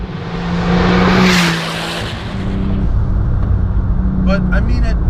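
A tuned 760 wheel-horsepower Porsche 997 Turbo with a Tiptronic gearbox accelerates on an open road. A loud, sustained engine roar swells and holds, with a faint squeaky chirp near the end.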